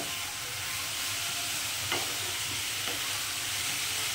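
Chopped onion, garlic and ginger sizzle steadily in hot oil in a pan, with a constant close frying hiss and a couple of soft scraping stirs from a spatula, no voices.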